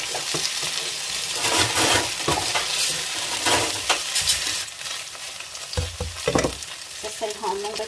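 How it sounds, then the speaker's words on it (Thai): Loud, continuous sizzling and frying as shallots are stir-fried in a large pan, a metal utensil scraping and clanking against it as food is tossed and stirred. "ใส่หอมลงไปผัดนิดหน่อยนะคะ"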